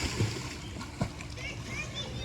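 Children splash and stir up the water of a swimming pool, slapping splashes and sloshing close by under a steady wash of noise, with kids' voices mixed in.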